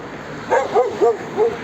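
A dog barks four times in a steady rhythm, fairly close and clear, aimed at another dog passing by on a street in Niš, Serbia.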